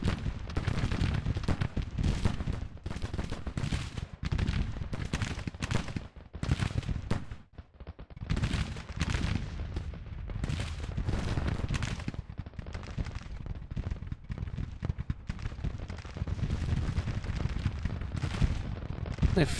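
Volleys of Enfield rifle fire in the Civil War strategy game Grand Tactician, rolling crackling bursts layered over booming artillery, dense and continuous with brief lulls, a large battle heard from a middle distance.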